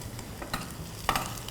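Shallots and garlic stir-fried in a pan with a little soy sauce: a soft steady sizzle with a few spatula scrapes and stirring clatters, fairly quiet.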